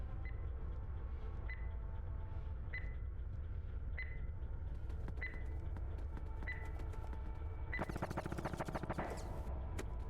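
Gunfire from the video game SCP: Invasion, with bursts of rapid automatic shots breaking out amid repeated periodic beeps and a low rumbling ambience, growing dense and loud near the end.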